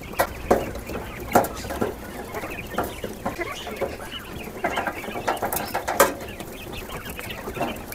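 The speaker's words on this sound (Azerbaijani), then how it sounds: "Hətta bildirçinlərimiz burada yem yeməyə də çalışırlar." Quails in a cage, a flock giving repeated soft clucking and chirping calls that rise and fall irregularly over continuous rustling and shuffling close by.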